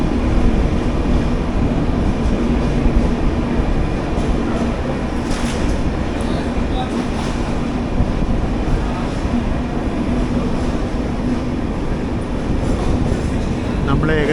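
A Chennai Trivandrum AC Superfast train pulling into Salem Junction station gives a steady, loud rumbling rush of wheels and carriage noise that is continuous throughout, with a voice speaking over it.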